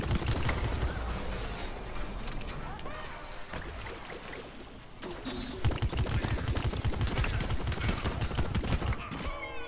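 A Gatling gun fires in a video game, a dense, rapid stream of shots rattling throughout, with a brief dip before the fire surges again louder, amid chaotic battle noise.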